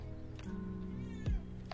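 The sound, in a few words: cat meowing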